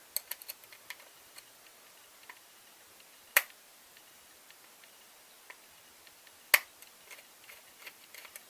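Screw in an electrical double socket turned backwards to find its thread, giving two distinct sharp clicks a few seconds apart amid faint small ticks, close and quiet.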